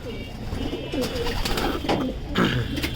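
Racing pigeons cooing inside a loft, several soft throaty coos overlapping against a steady background murmur, fairly close.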